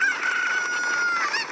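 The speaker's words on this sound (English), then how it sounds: "we need, like, to fly with the chicken to get other chickens" Cucco chicken from the video game Zelda: Ocarina of Time, a single loud, drawn-out squawking cluck, close and clear, held for over a second with a brief upturn at the end.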